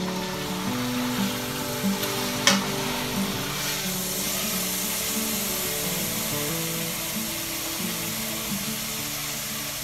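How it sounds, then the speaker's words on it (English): A beef roast browns in a hot pan with potatoes and carrots for later, giving a steady loud sizzle and hiss that holds evenly the whole time, with one brief sharp spatter near the start. "We want to brown it on the sides also."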